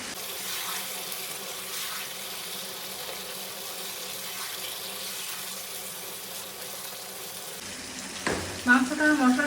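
Beef frying with spices and two bay leaves in a pot, a steady close sizzle running throughout, with a brief clatter of stirring or a utensil near the end.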